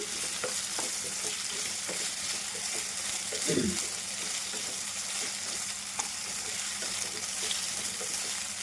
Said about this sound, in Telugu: హైలోనే పెట్టి 1 నిమిషం ఫ్రై చేయాలండి